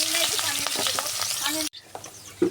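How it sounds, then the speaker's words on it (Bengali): Onions fry in a pan with a busy, close sizzle broken by clattering stirs and scrapes. The sizzle drops out suddenly near the end, leaving a few quieter scrapes and knocks. "পেঁয়াজ আমার ভাজা হয়ে গেছে"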